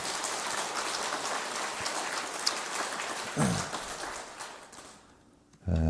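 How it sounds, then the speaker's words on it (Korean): A church congregation gathered for a predawn Easter service applauds in a dense, steady wash of many hands, tapering near the end before a low thump. "우리 좀 감사하는 마음으로 그들을 위해서 한번 하나님 앞에 영광의 박수 한번 칩시다"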